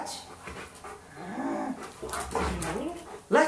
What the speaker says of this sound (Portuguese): E vou pedir o late.